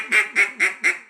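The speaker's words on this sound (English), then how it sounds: "I like the ring that this one has when you get up and do that greeting call" A duck call blows a greeting call of four evenly spaced, ringing quacks, close and clear with nothing else heard.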